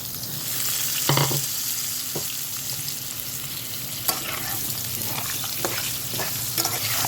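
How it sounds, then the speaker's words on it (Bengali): Long potato strips fry in a pan with a steady, close crackling sizzle, broken by a few sharp clinks and scrapes of stirring. "দিলাম লম্বা লম্বা করে আলু আলুটাকেও লাল লাল করে আগে ভেজে নেব"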